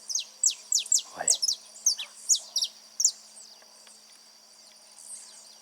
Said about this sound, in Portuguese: Olha que canário da terra